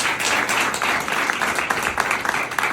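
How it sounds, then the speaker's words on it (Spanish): An audience at a class claps in a fairly loud, dense round of applause for Nicolás Maduro and Diosdado Cabello, with uneven bursts of hand claps sustained throughout. "Un fuerte aplauso a Nicolás Maduro y a Diosdado Cabello"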